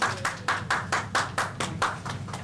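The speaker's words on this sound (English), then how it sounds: "can we give her a round of applause?" A small group claps for a volunteer at a live event, about ten crisp, evenly spaced claps close to the microphone, fairly faint overall and with no voices over them.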